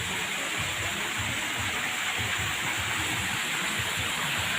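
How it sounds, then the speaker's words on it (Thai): Waterfall at a Thai cafe, a constant broadband rush of falling water at low, steady level with no voices. "มีน้ำตกด้วยต้องมานะคะ"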